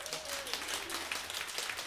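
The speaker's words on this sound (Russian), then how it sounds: "Себе похлопайте" A concert audience claps for itself, a dense, steady wash of many hands that holds at an even level throughout, with a faint voice briefly audible beneath.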